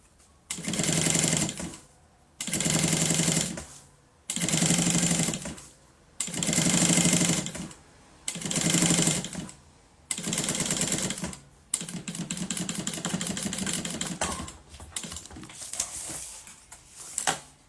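A sewing machine stitches a seam in six short bursts of fast mechanical chatter separated by pauses, then runs in a longer stretch, close and loud, with backstitching at start and end.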